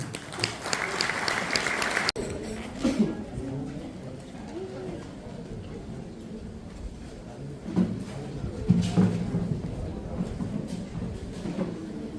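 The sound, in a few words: audience applause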